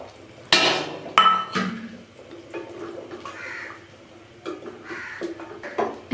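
A metal spoon stirring and scraping chicken and potato salan in a cooking pot after garam masala and fresh coriander go in, giving a few sharp clanks and knocks followed by softer scraping and sloshing, fairly close.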